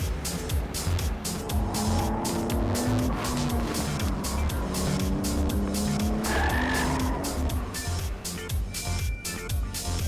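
Nissan Skyline R34 GT-R Nismo Z-tune with RB26 engine driven hard on a tight mountain road, engine roaring and tires squealing through corners, loud and continuous with no talk.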